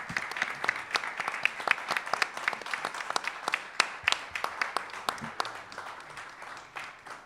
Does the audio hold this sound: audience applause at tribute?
yes